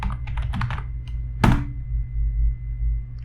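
Someone types a short name in Excel on a computer keyboard, a quick run of close key clicks followed by a louder thunk and a hum underneath.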